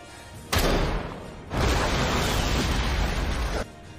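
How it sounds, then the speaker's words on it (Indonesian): Sniper-caliber bullet explosions in a video game set on a mini Indonesia map: a sudden loud blast followed a second later by a second, bigger roaring burst that rumbles on before cutting off abruptly. "Hingga saat menggunakan peluru kaliber, ledakan terjadi sangat amat dahsyat."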